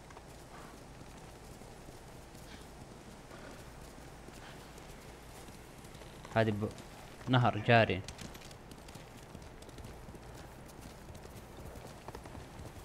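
A horse's hooves clip-clop in the Ghost of Tsushima video game, a few quick clusters of hoofbeats in the middle, under quiet ambience, while someone talks over it.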